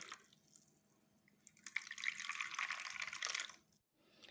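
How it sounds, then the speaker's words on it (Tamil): Fresh sugarcane juice is poured into an ice cube tray, a faint, close trickle of liquid that swells for a couple of seconds and then stops. "இது மாதிரி ட்ரேயில் ஊற்றிக்க போகிறேன்"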